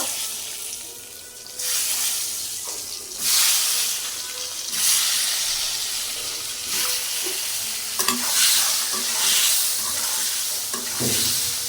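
Egg poured into hot oil seasoned with turmeric and salt, giving a sizzling fry that swells in repeated bursts as it is stirred, close and fairly loud, with occasional utensil clicks.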